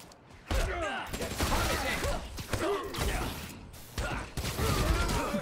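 Rapid weapon fire and mechanical clatter from enemies in the video game Spider-Man: Miles Morales, loud bursts in several waves with crashing impacts, while a person talks excitedly throughout.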